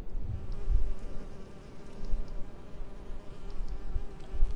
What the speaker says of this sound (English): These wasps are aggressive.